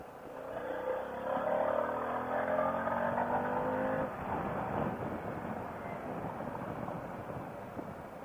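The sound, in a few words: Harley-Davidson Pan America motorcycle riding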